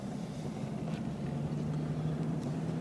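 A classic Jeep Cherokee pulling away in drive, with a steady low engine drone and road rumble heard from inside the cabin, continuous and fairly loud, with no voices.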